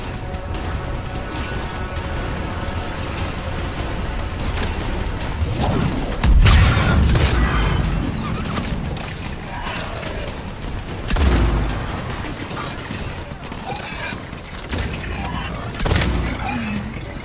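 Explosions and gunfire in a Mass Effect 3 battle boom heavily about every five seconds amid a constant clatter of shots and debris, with voices speaking over the fighting.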